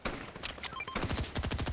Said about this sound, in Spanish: Se oyen disparos.